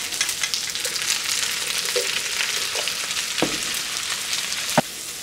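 Bacon lardons and drained peas fry in a hot pan for Cantonese fried rice, a steady close sizzle throughout with a few light stirring knocks and scrapes.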